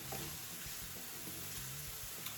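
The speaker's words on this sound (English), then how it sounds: "we're just gonna saute this for, 5 to 7 minutes till we get the onion and the peppers nice and soft" Onions and peppers sautéing in a pan for breakfast egg rolls, giving a quiet, steady sizzle with soft frying crackle throughout and no voices.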